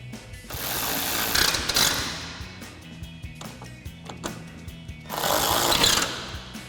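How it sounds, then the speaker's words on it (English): A ratchet fitted with a T30 Torx bit tightens the screws on sequential LED tail lights with gloss black housings and smoked lenses on a 2014-2021 Toyota Tundra, in two loud bursts of rapid clicking separated by quieter handling noise. "tighten those down using our T30 Torx bit on our ratchet"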